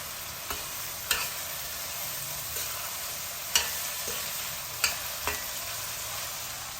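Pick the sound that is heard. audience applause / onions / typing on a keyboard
onions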